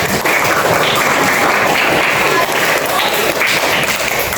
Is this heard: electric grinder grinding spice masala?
no